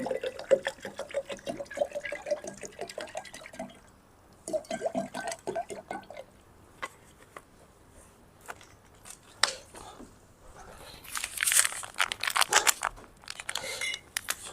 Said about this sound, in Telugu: మనము ఈ జార్లో హాఫ్ వరకు వాటర్ యాడ్ చేసుకోవాలి